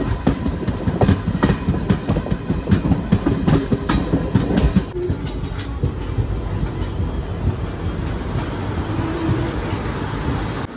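The Koyna Express, a 105-year-old train running between Kolhapur and Mumbai, rolls steadily along the rails with loud, close, continuous rumbling and clattering. The noise holds level for about eleven seconds.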